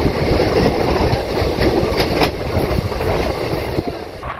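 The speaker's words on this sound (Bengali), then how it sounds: "ট্রেন এখন সমুদ্রগড় স্টেশন ক্রস করছে" The Howrah-Balurghat Express runs on rails past Samudragarh station, heard from inside a second-class coach as a loud continuous rumble with rhythmic wheel clatter and no voices.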